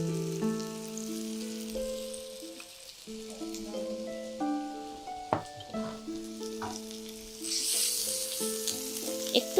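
Garlic and ginger paste fry in a pan with a soft continuous sizzle, stirred with scattered scrapes and taps, while faint tonal music plays quietly underneath.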